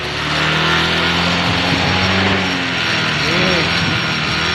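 A Yamaha Mio 125 scooter engine is held at high revs, giving a loud, steady, unbroken roar that stays close and constant throughout, with no clear speech.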